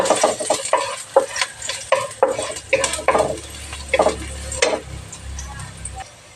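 Canola oil sizzles and spatters in a pan as food is stirred with a utensil, a close, steady frying hiss broken by scraping and clinks of metal on the pan.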